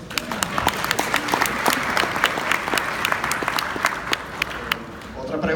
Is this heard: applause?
yes